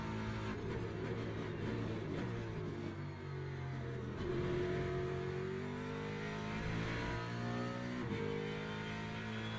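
A racing car engine in the video game Le Mans Ultimate hums continuously during a lap, its pitch rising and falling through gear changes as the car accelerates and brakes, steady and close with no talk.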